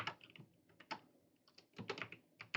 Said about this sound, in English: you should be able to type in each of the letters